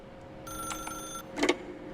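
A telephone rings in the video game The Stanley Parable Ultra Deluxe, a bright trilling bell that sounds for under a second, followed by a brief rattling jangle.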